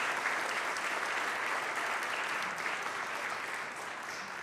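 A church congregation applauds together, a steady, fairly distant wash of clapping hands that holds evenly and tapers slightly near the end, with no one speaking over it.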